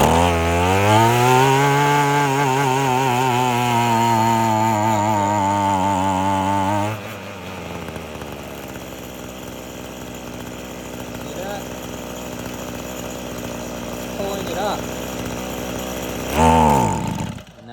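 An old, abandoned weed eater's small two-stroke engine revs loudly under throttle, wavering up and down, then drops to a rough idle and briefly revs again; someone talks over it.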